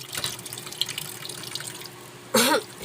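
Dishes being washed at a sink, with soft clinks and water trickling through most of the stretch before a louder gush of running tap water near the end, nearby and with no speech.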